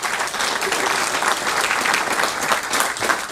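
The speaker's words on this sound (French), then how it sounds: "ça mérite un applaudissement énorme pour le travail qui a été fait." Dense, steady audience applause fills the room, many hands clapping at a continuous even level from start to finish with no voices over it.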